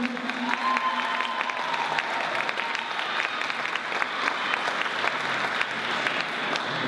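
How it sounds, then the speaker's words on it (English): A school winter concert audience gives a sustained round of applause for the music teachers, many hands clapping at moderate distance with some light cheering mixed into the steady crowd noise. "Nice big round of applause for them."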